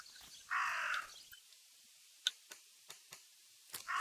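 A crow caws in the video game Martha Is Dead, one harsh call standing out near the start, followed by sparse ticking clicks and another short call at the end in a quiet scene.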